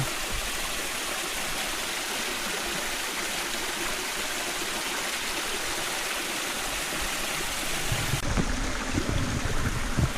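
Clear stream water flowing at a campsite in Real, Quezon, a steady, close rushing burble that continues throughout, with a few louder splashes near the end.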